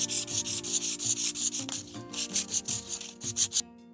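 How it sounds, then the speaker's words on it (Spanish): A carved wooden batea, a traditional trough, is sanded by hand with quick rhythmic back-and-forth rubbing strokes, close and steady, before stopping abruptly near the end. "Ahorita le voy a lijar para darle el terminado ya"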